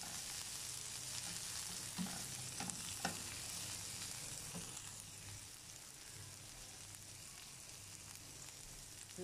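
White cabbage stir-fries in a pan for instant noodles, giving a steady close sizzle with occasional scraping stirs and soft knocks.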